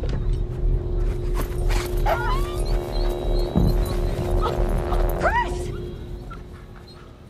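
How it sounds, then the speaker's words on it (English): A dog plays with children in a film scene from American Sniper, letting out short yips and whimpering whines over a steady mechanical hum and busy room noise. "Kids were playing with the dog, and the dog started playing and licking at one of the"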